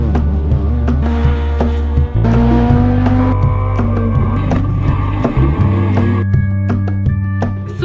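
At a Škoda car stunt driving show, engines rev hard and tires squeal in long, loud, shifting pitches. The sound rises and falls through several screeching passes, with no talking.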